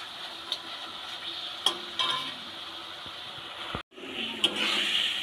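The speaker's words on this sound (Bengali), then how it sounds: "খুব ভালো করে নাড়তে হবে।" Olive pickle is stirred in a pan as the sugar melts, a low steady bubbling sizzle with occasional scraping knocks of the spoon, briefly cut off near the end before resuming.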